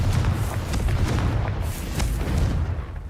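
A Confringo spell explodes in the Hogwarts Legacy video game, loud rumbling booms rolling continuously for about three seconds before fading slightly.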